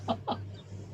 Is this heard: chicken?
yes